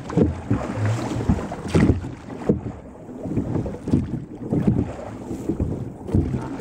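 A racing crew rows a boat at a high stroke rate, with repeated strokes pulling through the water under steady wind noise. No voices are heard.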